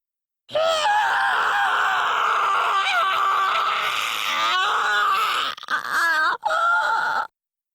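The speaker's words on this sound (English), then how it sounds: "I scream until my throat is raw." A character in the Steins;Gate visual novel lets out a long, strained scream of pain that wavers and groans, breaking off into shorter cries near the end before cutting to silence.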